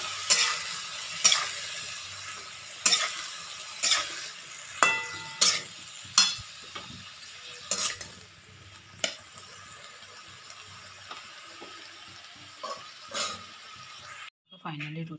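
Eggplant fritters frying in hot oil in a wok give off a low, continuous sizzle, broken by sharp utensil clacks every second or two that thin out toward the end before the sound cuts off.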